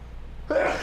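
A single sharp sneeze bursts out after a quiet stretch of studio room tone during a sports radio talk show, loud and close to the microphone.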